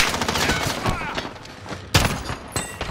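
Enemy gunfire in a combat video game, a dense crackle of rapid shots with sharper bursts standing out, loud and continuous throughout.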